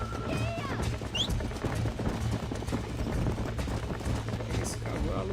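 A horse gallops in Red Dead Redemption with rapid hoofbeats over a busy game soundtrack, while voices talk over the action throughout.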